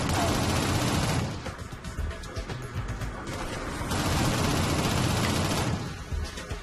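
Heavy automatic gunfire in the Xbox 360 shooter Shadowrun roars in two long sustained bursts with a quieter spell of scattered shots between them, loud and close.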